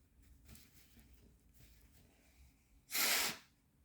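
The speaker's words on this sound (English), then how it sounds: "I need to blow my nose" A single short, loud burst of air through the nose, close by, after a few quiet seconds of faint room noise.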